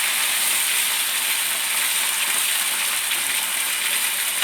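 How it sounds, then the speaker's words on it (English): Pasta sauce stirred into shrimp and noodles in a pan gives a steady, close, broadband sizzle and wet stirring scrape that run unbroken throughout, with no talking. "Mix that all in."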